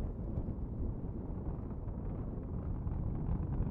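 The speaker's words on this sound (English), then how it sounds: "Merlin engines. Let's listen in." SpaceX Falcon 9 Merlin rocket engines roar in a continuous deep, crackling rumble during a Starlink launch, heard from a distance with some wind buffeting.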